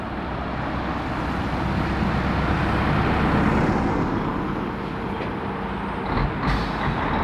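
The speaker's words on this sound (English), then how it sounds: "In fact, actually, there's two lorries coming." Lorries rolling past on a road in Middlewich, a loud, steady broadband rumble of heavy engines and tyres that swells toward the middle and eases slightly, close by and without talk.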